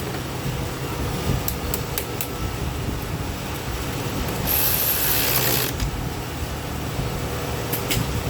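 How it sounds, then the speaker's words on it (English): A 1997 Acura RL engine idles steadily at close range, a continuous mechanical hum and whir with faint ticking, growing louder for about a second midway, with no talk. "So the alternator, so the car's running fine."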